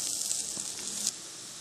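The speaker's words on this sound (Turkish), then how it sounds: "Tost makinesinde pişiriyoruz." Köfte meatballs sizzle inside a closed toaster grill, giving a steady, close hiss of frying that barely changes in level through the short stretch.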